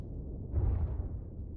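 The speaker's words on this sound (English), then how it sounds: "That was just the sound of my fucking thruster." Spaceship thruster firing in the video game Marauders, a low, rumbling burst that swells for about a second and then fades into a steady low hum, heard alone without talk.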